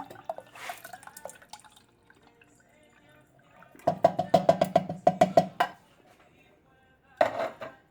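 Coconut cream poured for a vegan Puerto Rican coconut flan, heard as a burst of wet drips and splashes followed by a later short pour, with soft kitchen clatter between.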